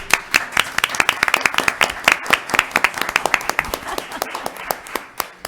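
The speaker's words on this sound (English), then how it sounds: "so let's give them a round of applause" An audience at a candidate forum claps steadily in applause, dense overlapping hand claps sustained throughout and fading slightly near the end.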